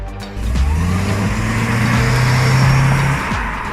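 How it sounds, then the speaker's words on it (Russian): A Toyota C-HR hybrid crossover accelerates, its engine note rising steadily as a close, loud hum with a climbing tone over a few seconds, alone without talk. "Машина быстро набирает скорость за счет 2 двигателей."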